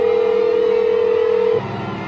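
A telephone line placing a call to the police gives a single steady, loud electronic tone that holds for about a second and a half, then cuts off abruptly, leaving low background hiss.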